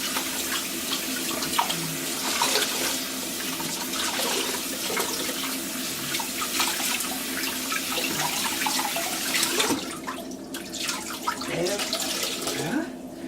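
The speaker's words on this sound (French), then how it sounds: "après on rince bien pour enlever tous les résidus de savon" Tap water running steadily into a sink while a Glov makeup-remover mitt is rinsed, a continuous close splashing rush with brief squelches and drips, with voices faintly under it.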